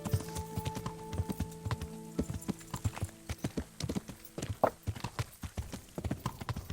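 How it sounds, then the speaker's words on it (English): Horse hooves clip-clop in the medieval video game Kingdom Come: Deliverance, a quick uneven run of crisp hoof strikes on hard ground, clear and close with nothing else over them. "Horsey, where are you? I need you, Pebbles."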